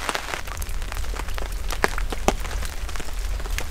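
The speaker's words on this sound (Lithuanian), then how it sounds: "Nupliušė lietus." Rain pours steadily at a lakeside bream-fishing spot, a dense patter of drops hitting surfaces with a few sharper taps standing out, continuous and fairly close throughout.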